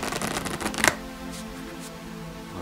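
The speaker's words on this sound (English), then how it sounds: "Let's give the cards a little mix." A deck of playing cards is shuffled with a quick riffling flutter for under a second, ending in a sharp snap, followed by a quiet room.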